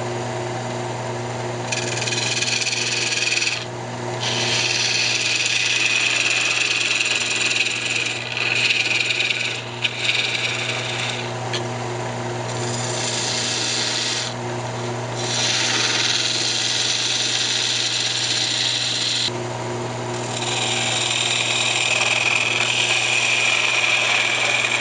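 A wood lathe turns a tenon on each end of a lidded box, giving a steady motor hum under bursts of gritty, scraping cutting noise that come and go throughout, with no voices.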